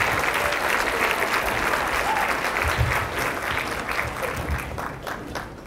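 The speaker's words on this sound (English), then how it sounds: "Please give these girls one more round of applause." Warm audience applause for a girls' sports team at a school sports banquet, steady clapping from a large crowd that gradually tapers off.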